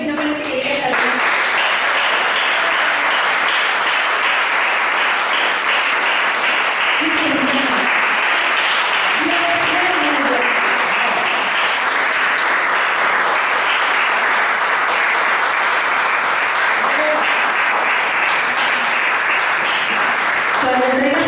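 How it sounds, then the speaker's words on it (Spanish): Sustained applause from a church congregation during a Spanish-language worship service, loud and dense for over twenty seconds, with voices and shouts rising through the clapping. "dime si no merece un aplauso"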